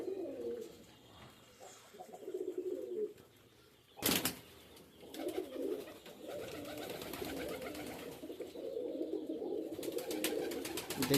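Rajshahi Giribaz pigeons coo softly in a loft, with throaty murmurs rising and falling throughout, a sudden burst of wing flapping midway and faint background noise.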